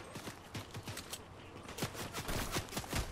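Rapid gunfire from the video game Fortnite crackles in quick irregular bursts, a dense string of sharp shots heard fairly faint throughout the short stretch with no talk over it.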